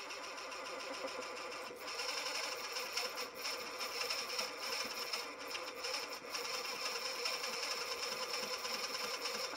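A rotary cutter blade sharpener runs with a loud, continuous whirring grind, close up and steady for the whole stretch, with slight surges and small dips in the buzzing texture.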